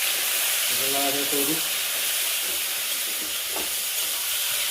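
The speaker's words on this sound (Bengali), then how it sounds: "মাংসটা একটু ভাজা ভাজা করে নিই" Meat frying in a pan while being stirred for a home-cooked meat curry, a steady broadband sizzle and hiss throughout with brief speech early on.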